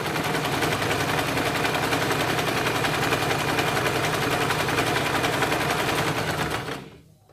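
Sewing machine stitching a straight seam on a salwar, giving a loud, steady, continuous whirring clatter for nearly seven seconds before stopping abruptly near the end, with no talking.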